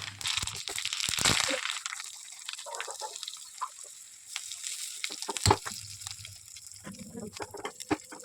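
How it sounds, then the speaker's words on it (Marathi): Cumin and mustard seeds tempered in plenty of hot oil for a raw mango chutney, crackling and sizzling close up with sharp pops among a steady frying hiss. "आता आपण फोडणी करून घेऊयात"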